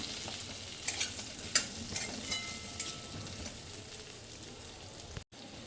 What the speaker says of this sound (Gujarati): તો આ રીતે સરસ બટાકા 5-1 મિનિટ થઈ ગઈ છે સતળાતા।